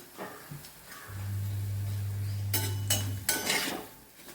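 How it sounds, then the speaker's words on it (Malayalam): Asafoetida frying in sesame oil in a pan, with a steady low hum followed by loud bursts of sizzling and metallic clatter near the end, with no voices. "കായം നല്ലെണ്ണയിൽ ചൂടാക്കി ഒന്ന് വറുത്ത് പോരാം."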